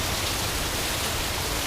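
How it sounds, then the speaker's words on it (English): A heavy rainstorm pours down in a dense, even hiss of countless drops striking surfaces, loud and unbroken for the whole stretch. "Dorothy Tinker, what would the fairies be doing in this rainstorm?"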